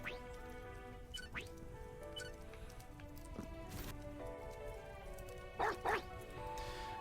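Dogs in The Last Friend video game, including a corgi in a bow tie, give short barks and yips over a steady layered game soundtrack, with a couple of sharper bursts near the end.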